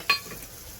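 Vegetables being sautéed in a pan with turmeric powder and rock salt give a quick, faint scrape of stirring with a soft sizzle, one short burst that then trails off.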